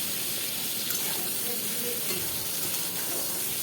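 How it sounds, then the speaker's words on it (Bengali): Something is stirred and lightly fried in a pan with salt, giving a dense, steady hiss of frying with a watery quality and no clear breaks. "এটা একটু ভালো করে নেড়ে নেব, হালকা একটু ভেজে নেব।"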